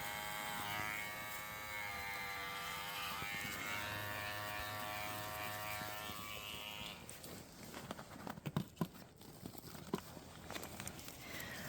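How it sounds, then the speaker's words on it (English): Electric clippers buzzing close while shaving a goat's neck, a steady hum for several seconds before cutting off, followed by faint handling knocks and a quieter background. "I'm gonna shave a little bit more for the sake of being able to show you what's happening."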